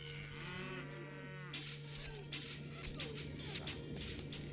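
Cattle mooing in the medieval strategy game Stronghold Crusader, a drawn-out low moo over a steady game ambience hum, followed by softer shuffling and clicks.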